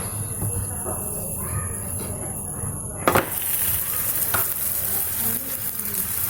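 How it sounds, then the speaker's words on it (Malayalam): Garlic parotta fries in ghee in a pan, giving a steady close sizzle with occasional stirring scrapes and a sharp clatter midway, while someone talks quietly over it. "ഈ പൊറോട്ട നെയ്യാക്കിയാൽ 2 ഭാഗം നമുക്കൊന്ന് ഫ്രൈ ചെയ്ത് വേവിച്ചെടുക്കണം."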